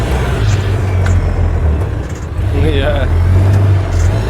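UTV engine rumbling steadily on a test ride, a loud low drone that dips briefly midway, with a short spoken word over it.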